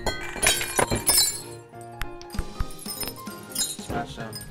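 Picture frame glass shattering in the video game I Am Bread, a loud crash followed by scattered clinks and tinkling shards, with people talking over it.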